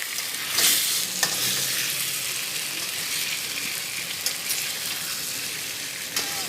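Chicken frying in a pan for korma is stirred steadily, with a constant sizzle and a few sharp scraping strokes, close and fairly loud, and no voices.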